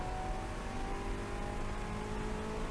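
A Corvette-style car holds full throttle on the NCM Grand circuit, a steady, droning engine roar with a whirring tone that stays constant and close throughout.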